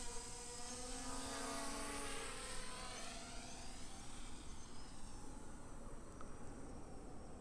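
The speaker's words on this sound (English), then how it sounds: "I'm going to spin the drone and it will continue to go the same direction." A Bugs 3 Pro quadcopter drone flies and spins in headless mode, its propellers giving a steady high buzzing whine that shifts in pitch as it turns, moderately distant and fairly faint throughout.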